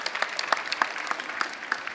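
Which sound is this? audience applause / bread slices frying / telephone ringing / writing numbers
audience applause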